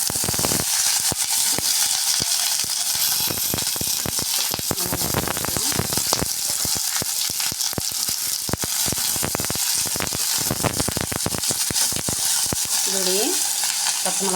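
Onions frying in hot oil in a pan while being stirred for an onion chutney, a continuous loud sizzle with repeated scraping stir strokes throughout.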